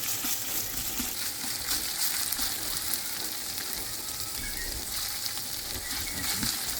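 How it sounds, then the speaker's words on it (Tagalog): Chicken sautéing with ginger and garlic in a pan for arroz caldo, giving a steady, dense sizzle and fry that keeps going throughout, with faint stirring scrapes mixed in. "gigisahin natin ang chicken para matanggal ang lansa hanggang sa mag-brown ang chicken"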